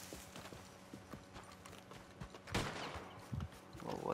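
Horse hooves clip-clop rhythmically through most of the stretch in Red Dead Redemption 2 gameplay, joined by several loud gunshots and a short burst of gunfire near the end.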